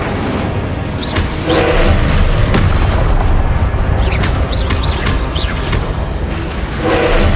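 Incendio fire spell cast in Hogwarts Legacy during combat, a loud, dense roaring blast of game effects with bursts, whooshes and booming impacts layered over continuous battle noise.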